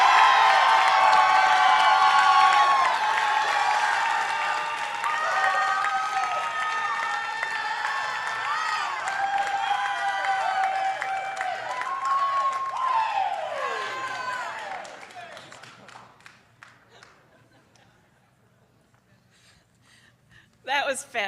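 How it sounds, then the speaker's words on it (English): Audience at a university health sciences white coat ceremony claps and cheers loudly for graduating students, with whoops and shouting voices. The cheering dies down toward the end, followed by a brief final burst of noise. "Excellent work cheering for every single student that walked by"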